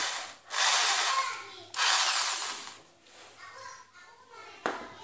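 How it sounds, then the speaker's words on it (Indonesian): A power drill whirs in bursts while building a hydroponic aeroponic system, starting and stopping a few times with a high grinding whine, close by, with faint background movement. "kemudian kita bor."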